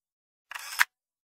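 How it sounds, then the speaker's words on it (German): A single camera shutter clicks once, a short crisp snap with a brief mechanical whir, close by in an otherwise silent moment. "Hör auf, so viele Fotos zu machen."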